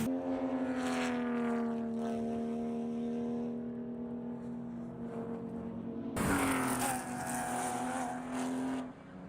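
Race cars at Chuckwalla Valley Raceway, a steady droning engine note held under high revs, with a second louder car sweeping in close partway through.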